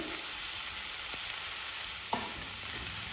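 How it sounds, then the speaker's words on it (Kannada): Tomatoes and green chillies fry in a pan with a soft, even hiss, quiet and steady, broken by a couple of light knocks from stirring. "ಟೊಮ್ಯಾಟೊವನ್ನು ಕೂಡ ಸ್ವಲ್ಪ ಫ್ರೈ ಮಾಡ್ಕೊಳ್ಬೇಕು."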